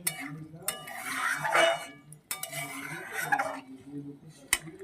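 Chicken kosha, spiced with dried red chillies and black pepper, is stirred in a pan, with a spoon scraping and clinking against the metal in repeated strokes and a soft sizzle underneath.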